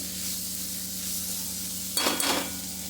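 Peas fry in a pan for a cabbage and peas curry, a steady hissing sizzle over a low hum that swells into louder scraping bursts of stirring near the end, close and without speech.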